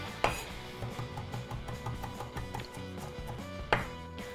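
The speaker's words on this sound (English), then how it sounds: "Parsley. Chop it fine." A knife chops parsley finely on a cutting board for a tuna spread, giving a quick steady series of close rhythmic thuds, with a couple of sharper knocks at the start and end.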